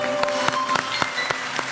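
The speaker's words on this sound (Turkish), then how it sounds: "Alkışlarla Emre'yi alalım." Studio audience claps in a steady burst of applause on a Turkish television folk song competition set, bright and continuous throughout.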